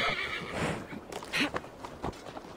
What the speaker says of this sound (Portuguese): O cavalo vem, veio até de dentro do barco.